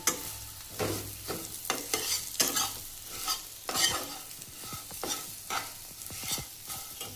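A spoon scrapes and stirs food in a pan as turmeric and salt are mixed in, giving repeated close scraping strokes over a soft sizzle, with no talking.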